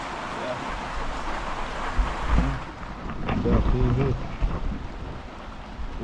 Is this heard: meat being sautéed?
no